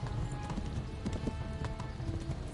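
Horse hooves clip-clop steadily in Kingdom Come: Deliverance, a brisk repeated beat of close footfalls over a continuous low rumble of travel.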